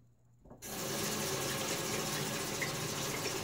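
Running water from a tap starts abruptly and flows steadily as shaving lather is rinsed off fingers; close, even and moderately quiet, with no speech.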